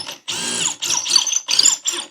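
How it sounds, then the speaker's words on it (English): A power drill bores a 3/4 inch hole down through the floor beneath a baseboard in a finished wall, running in several short whirring bursts with brief pauses between them, close and loud. "let's go ahead and drill this through"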